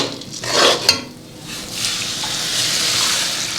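Water poured into a hot pan of fried rice grains for chicken tehari, setting off a loud burst of sizzling and stirring that settles into a steady hiss of frying.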